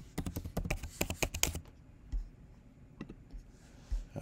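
Rapid keyboard typing clatters in a dense burst of clicks for about a second and a half, then a few scattered keystrokes follow in near silence, close and clear with no talking.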